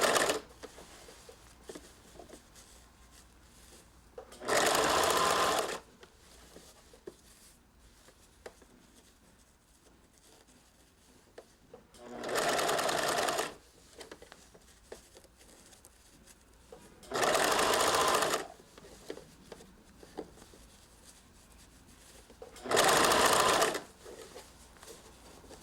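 Sewing machine stitching bias binding around the armhole of a bolero with white thread, running in four separate bursts of steady whirring with quiet pauses between them.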